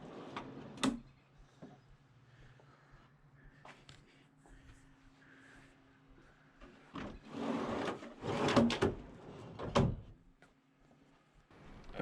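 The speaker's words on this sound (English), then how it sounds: "And then the sliding drawer is on 90-pound drawer slides." A heavy sliding drawer on 90-pound drawer slides in a removable truck camper is pulled open, with soft rolling slide noise and several sharp clunks and thumps near the end, close and fairly quiet.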